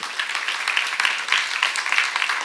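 Church congregation claps together in a brisk, fairly even burst of applause, fairly close and bright, lasting a couple of seconds.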